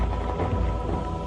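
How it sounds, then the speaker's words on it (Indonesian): Steady rain pours down as a dense, even hiss that holds at a constant level throughout, with no voices. "Alhamdulillah hujan."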